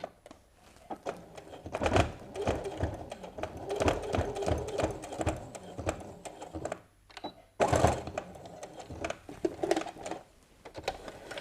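Sewing machine stitching a strap for an apron, running in short irregular bursts with brief pauses and a gap near the middle, fairly close and clear with no talking.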